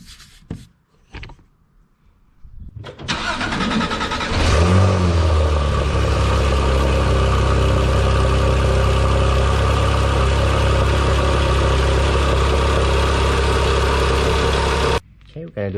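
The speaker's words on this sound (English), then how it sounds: "we're going to do a cold start on the top speed exhaust system" A Porsche 991.1 GT3 fitted with a Top Speed center exhaust fires up from cold after a few clicks and brief voices, then settles into a loud, steady high idle that holds until the end.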